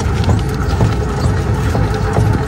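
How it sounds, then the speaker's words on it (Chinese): An electric tricycle wheel with a worn half-shaft bearing knocks while the vehicle is driven, producing a repeated dull thudding under steady rolling and mechanical noise, loud and close. "大家先听一下这台车行驶的时候有咚咚咚的声音"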